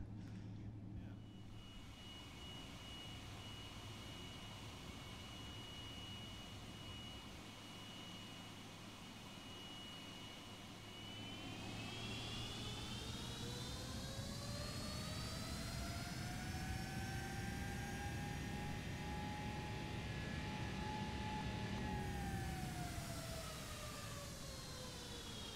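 Boeing 777-300ER jet engines from a sound pack in the X-Plane 11 flight simulator hum quietly at first, then spool up into a rising, sustained whine that swells before easing down near the end.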